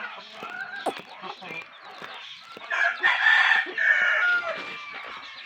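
A gold gamefowl rooster crows loudly in the middle of the clip and clucks at other moments, close to the recorder. Light background noise runs throughout.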